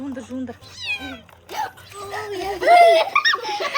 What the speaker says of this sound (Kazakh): Ана мысықты ұстап алайық.